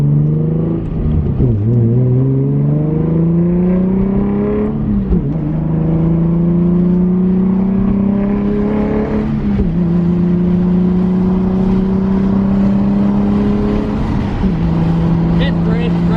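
A Nissan 350Z engine drones loudly from inside while driving, its pitch climbing steadily, dropping at each gear change and climbing again in about four repeated sweeps.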